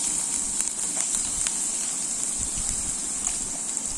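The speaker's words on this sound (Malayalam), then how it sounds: "വെളിച്ചെണ്ണ ചൂടായി നമുക്കിനി വെളുത്തുള്ളി ഇതിനകത്തോട്ട് ഇടാം" Garlic dropped into about two tablespoons of hot coconut oil in a pan for a fish cutlet, producing a loud, steady, close sizzle with no voices.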